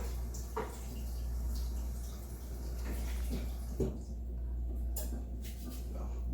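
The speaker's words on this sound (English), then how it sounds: "And then, of course, I wash my hands because they're dirty." Water runs from a faucet over dirty hands being washed, a soft continuous splash with faint drips, heard at moderate distance over a low hum.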